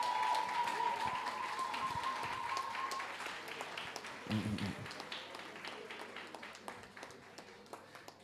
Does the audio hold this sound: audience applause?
yes